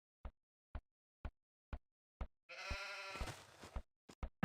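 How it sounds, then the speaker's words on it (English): Sheep bleat in Age of Empires II: one long bleat lands midway, framed by a steady run of short, sharp clicks before and after it, with no talk over it. "villagers can herd sheep"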